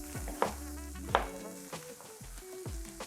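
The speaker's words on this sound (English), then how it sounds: "So while the onions are caramelizing and nicely brown in there" Onions caramelizing in a pan for a vegan spicy potato stew, a steady sizzle broken by a few clattering stirs of a utensil, close and moderately loud with no talking.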